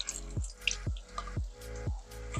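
Water drips off an aluminum gate frame in a slow, even rhythm, five distinct close drops plinking one after another against quiet surroundings with no voices.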